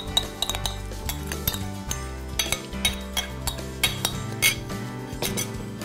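A metal spoon stirs and scrapes grated eggplant and onion in a bowl, giving repeated clinks and soft squelching turns at an uneven rhythm, close and clear with no talking.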